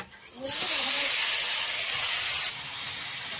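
Meat drops into a hot kadai and bursts into a loud, close, steady sizzling hiss that lasts about two seconds, then eases to a quieter sputter.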